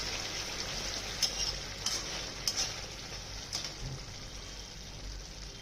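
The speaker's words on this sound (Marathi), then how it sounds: "मधून मधून कारल्याची भाजी हलवायची पण अशी." Bitter gourd curry being stirred as it fries in a pan, with a steady soft sizzle and several sharp spatula scrapes and taps against the pan, close and clear with no talking.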